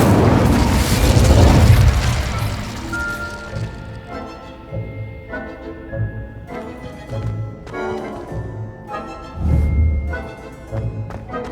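A fire spell cast in the Hogwarts Legacy video game: a loud fiery boom to open, followed by a string of softer bursts and pops over a rumbling, tonal game soundscape.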